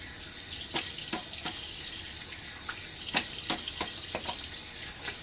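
Tap water running into a sink while a razor is rinsed, a steady splashing stream broken by sharp clicks and taps of the razor against the basin, close and moderately loud.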